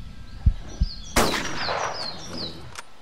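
A .308 rifle fires in the hunting video game Hunting Simulator: a single sharp, loud crack with a long rolling echo, after two soft thumps and with faint bird chirps behind.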